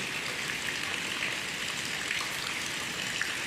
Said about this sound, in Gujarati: આજે પછી વરસાદ પાછો ચાલુ થઈ ગયો